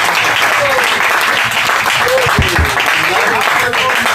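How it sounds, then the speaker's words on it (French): A church congregation applauds during a French-language sermon, loud sustained clapping filling the room, with voices and cheers mixed in over the applause. "Est-ce qu'on peut acclamer le Seigneur Jésus?"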